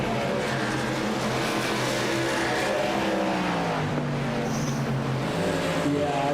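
Race cars in a VSpeed Contender Series event circle the track, engines droning loud and continuous with rising and falling pitch as cars pass, mixed with track ambience.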